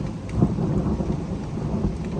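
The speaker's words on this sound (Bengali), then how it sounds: "আকাশের গর্জন শুনতে পাচ্ছেন" Thunder rumbles low and heavy through a downpour of rain and hail over a garden, the rain hissing steadily throughout.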